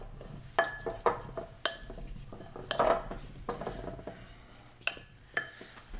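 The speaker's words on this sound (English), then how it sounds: "I'm just going to give them a toss with the olive oil," Washed potatoes being tossed with olive oil in a pan give off intermittent, fairly close clinks and clatters against the cookware at an irregular rhythm, with no talking.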